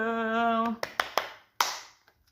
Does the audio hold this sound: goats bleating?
no